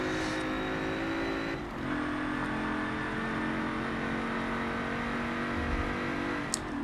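A Ford Falcon XR8 racing car in Forza Motorsport 7 holds a steady, droning engine note at sustained speed around a track, moderately loud and continuous with slight shifts in pitch.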